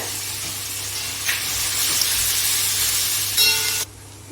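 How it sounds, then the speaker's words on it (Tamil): Onions sauté in a pan for a Madurai egg mass dish, giving a steady, loud, bright sizzle with a brief flare of crackle near the end before it drops off abruptly. "இப்போ நான் இதில் வெங்காயம் போட்டு வதக்கிக்கிறேன்"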